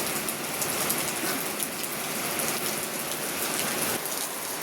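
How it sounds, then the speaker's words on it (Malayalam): Steady rain falling at home, a dense continuous hiss of drops pattering on surfaces, even and unbroken throughout with no voices. "ഇതൊക്കെയാണ് ഞങ്ങളുടെ ഇവിടുത്തെ ഇന്നത്തെ മഴയും കാര്യങ്ങളും ഒക്കെ"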